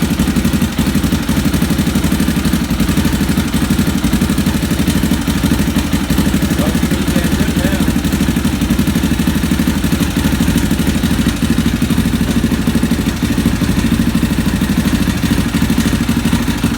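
Steady, loud idle of a KTM 450 motorcycle engine after a top end rebuild and valve replacement, an even mechanical clatter with no revving from start to finish.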